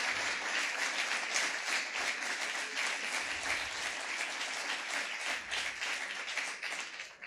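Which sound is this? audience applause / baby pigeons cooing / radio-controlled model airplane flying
audience applause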